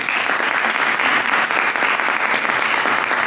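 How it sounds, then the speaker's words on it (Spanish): A crowd of students and staff at a school gathering in Villa del Rosario claps loudly and steadily, a thick continuous wash of many hands with no speech on top. "le damos un aplauso a ellos también"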